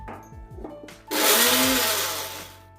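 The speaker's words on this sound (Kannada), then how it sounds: "ಫ್ರೈ ಆಗಿರೋ ಕಾಯಿ ತುರಿನ ರುಬ್ಬಿರುವಂಥ ಮಸಾಲದ ಜೊತೆ ಗ್ರೈಂಡ್ ಮಾಡ್ಕೊಳ್ತಾ ಇದ್ದೀನಿ" A mixer grinder grinds fried grated coconut with masala, starting with a few short bursts and then settling into one loud, steady whirring run that fades slightly toward the end.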